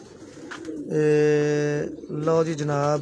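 Local Faisalabad pigeons give two drawn-out, tonal coos close up, one after the other, with a voice speaking briefly alongside.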